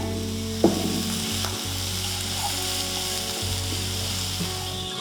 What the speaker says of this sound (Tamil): இது நல்லா வதங்கிட்டு இருக்கு